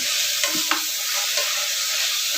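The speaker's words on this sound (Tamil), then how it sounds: "காயெல்லாம் இதுக்குள்ளே போட்டுக்கோங்க இது ஒரு அஞ்சு நிமிஷம் வதங்கட்டும்" Vegetables sizzle in a hot pan for a coriander-stem vegetable soup with a steady hiss, and a few soft scraping stirs can be heard.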